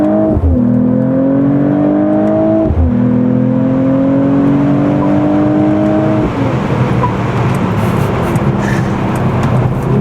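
A 2025 Mercedes-AMG CLE53 accelerates hard onto a highway, its engine rising steadily through two upshifts under a constant close rush of road and wind noise, with no talking.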